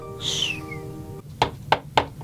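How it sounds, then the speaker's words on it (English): Three sharp knocks on a door ring out one after another, following a brief cartoon whistle-like tone. "Sounds like someone's at the door."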